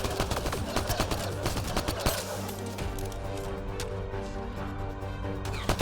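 A concussion shot firing in the video game Mass Effect Andromeda: sharp loud impacts and bursts of gunfire over busy combat noise, with a brief voice.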